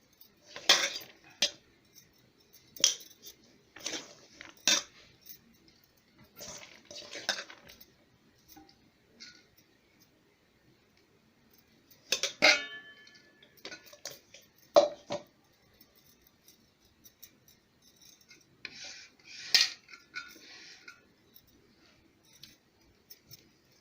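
Cooked rice is spooned in layers over chicken pieces and potatoes for a home-style chicken biryani, giving sharp metallic scrapes and clinks of a spoon against a pot in several separate bursts with quiet gaps, close and clear, with no talking.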